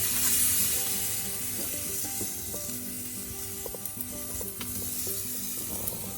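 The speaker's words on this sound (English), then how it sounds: "And listen to that sizzle." A thick tomahawk steak sizzles on a screaming-hot Big Green Egg grill, a steady loud crackling hiss that runs throughout with small pops and no talking.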